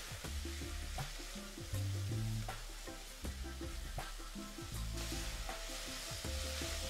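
Greens (bhaji) seasoned with turmeric and chili cook in a pan, giving a steady close sizzle and frying crackle with soft stirring scrapes and no voices.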